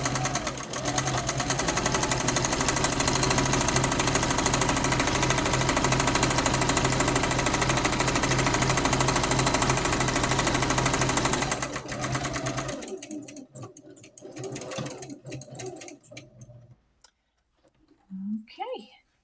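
A sewing machine quilts a pink rag quilt block. It runs in a fast, steady, loud stitching whir for about twelve seconds and then stops. Brief handling noises and quiet talk follow.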